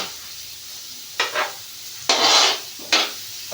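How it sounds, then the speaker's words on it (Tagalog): Onions frying in a pan for a mung bean stew, with short bursts of sizzling and scraping as they are stirred, three distinct surges separated by quieter gaps. "Gisa-gisa."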